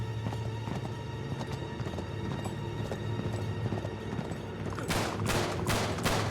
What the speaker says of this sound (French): il y a le cheval. Mon cheval est là.